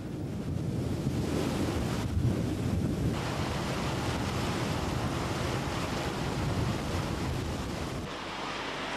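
Waves and wind buffet a boat crossing the Red Sea toward the Sinai Peninsula, a steady loud wash of surf and wind noise on the microphone that eases slightly near the end, with no voices.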